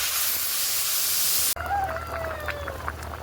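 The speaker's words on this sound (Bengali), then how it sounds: "এবার আমি জল ঢেলে দেবো এটার মধ্যে" Water is poured into a pan of frying Malabar spinach and potato curry, giving a loud, close burst of sizzling hiss. The hiss cuts off abruptly, and faint chirping birds are left in the background.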